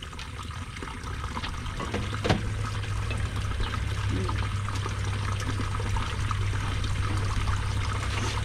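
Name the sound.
water pouring while rinsing something outdoors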